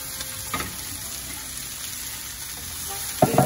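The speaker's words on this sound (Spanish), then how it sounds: "Cuando nuestra cebolla ha empezado a cambiar de color, cafecita, a caramelizarse, es cuando agregamos el resto de los vegetales." Vegetables fry with caramelized onion in a pan, giving a continuous close sizzle with light stirring and a sharper clatter of spoon against pan at the end.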